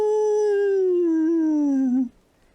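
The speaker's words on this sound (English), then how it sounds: "that's when you hear this howl from the darkness" A long, wavering animal howl, used as a sound effect in a Dungeons & Dragons tabletop session, sounds loud and close, slowly sliding downward in pitch for about two seconds before cutting off into near silence.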